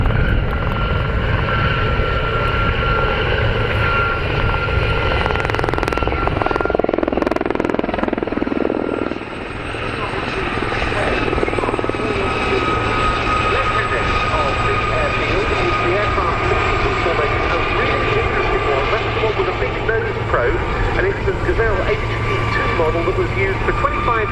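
Gazelle helicopters of the Gazelle Squadron fly a display at RAF Cosford Airshow, their loud rotor and turbine drone steady throughout, with a commentator's voice running over the noise.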